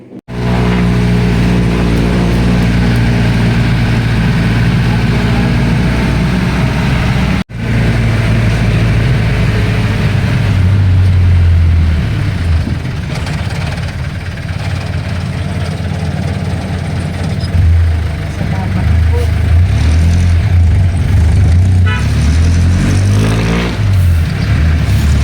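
A jeep engine runs loud and close, idling with a deep steady drone, then revving and driving on in a public market area, with a sharp knock partway through.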